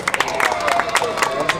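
A crowd at a rap battle semifinal claps and cheers in a brief, dense burst of applause, with a voice speaking over it.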